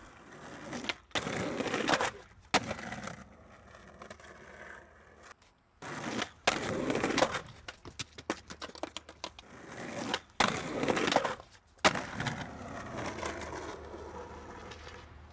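Skateboard wheels roll and clatter along a sidewalk toward a curb obstacle, with repeated sharp impacts and rattling clacks in irregular bursts, some loud and close, separated by quieter rolling stretches.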